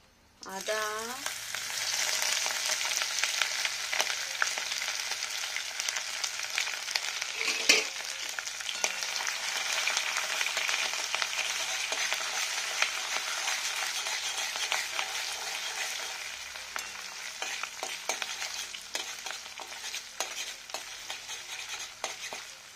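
Bay leaves and panch phoron spices fry in white oil in a pan, a steady close sizzle with light stirring scrapes that holds at an even level throughout, alone without voices.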